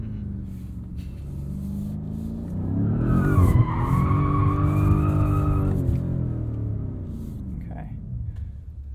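2021 BMW M5 Competition drifting, a loud engine note rising with a long, harmonic tire squeal over several seconds, with people talking in the car over the steady rumble.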